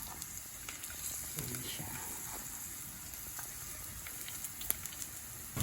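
Garlic sizzles in hot olive oil in a pan, a steady close frying hiss running throughout with a brief spoken phrase over it.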